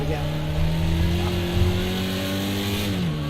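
A Porsche Carrera racing in a video game, its engine droning steadily with a rising pitch through the whole stretch, loud and close, with faint talk underneath.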